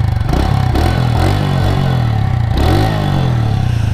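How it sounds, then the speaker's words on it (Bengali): A TVS Radeon 110 motorcycle engine runs loud and close at the exhaust, a deep steady idle thump with brief blips of revving, no talking. "এখন বাইকটা এই দেখেন এক্সস্ট সাউন্ড"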